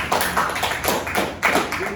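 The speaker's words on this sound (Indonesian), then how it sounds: "tepuk tangan untuk Alisa" Students in a classroom clap for a classmate after her answer, a short run of uneven, close hand claps in a few bursts.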